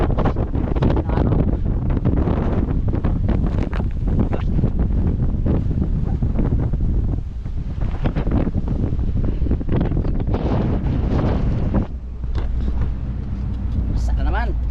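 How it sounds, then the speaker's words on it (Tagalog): Strong wind roaring over the microphone aboard a boat at sea off Cavite, constant and loud throughout, with buffeting gusts and a rougher rush near the end. "Lakas pa rin ang hangin mga amigo."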